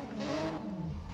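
A Lamborghini Countach LP5000 QV launches off the start line in Need for Speed No Limits, its engine revving up in a loud, rising whine that sweeps higher across a brief burst.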